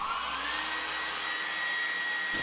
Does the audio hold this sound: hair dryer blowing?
yes